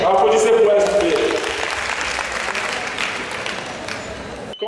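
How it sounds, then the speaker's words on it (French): An audience at a conference in Benin breaks into loud applause that starts strong and then settles into a steady, sustained clapping crowd, with no speech over it. "Applaudissez pour elle, s'il vous plaît."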